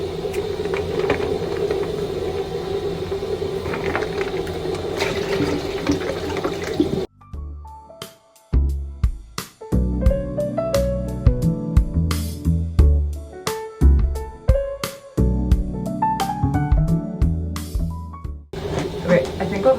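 Water from a leaking container drains, first as a steady rushing flow, then shifting to irregular splashing, gurgling and dripping, close by.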